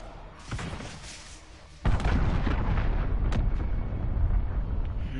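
A cruise missile strike explodes in Call of Duty: Modern Warfare, a sudden heavy boom that then holds as a dense, sustained roar and rumble of blast and debris.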